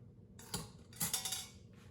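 Metal cake pan set back into an Instant Pot, a few soft clanks and scrapes of metal on metal, brief and close in a quiet kitchen.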